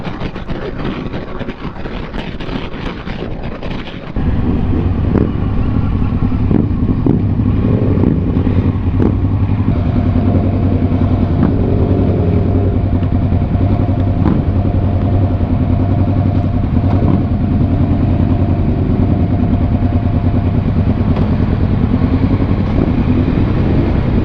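A Kawasaki Versys 650 motorcycle on a group invitational ride in Ilocos Sur, Philippines, its engine droning loud and steady with constant wind rush, rising sharply after a brief quieter opening and holding a continuous hum throughout.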